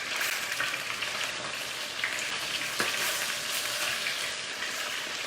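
Chicken pieces sizzle steadily in a hot pan for chicken cacciatore as they are turned over, a dense continuous frying hiss with a faint clack near the middle and no talking.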